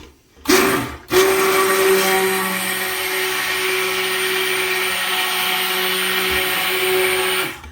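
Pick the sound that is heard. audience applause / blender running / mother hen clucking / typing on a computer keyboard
blender running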